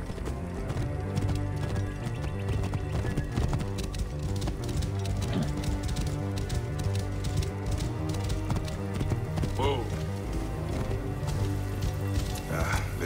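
Steady clip-clop of horse hooves with a brief whinny, set against a continuous layered ambience of wind or rain and faint background music, in Assassin's Creed Origins.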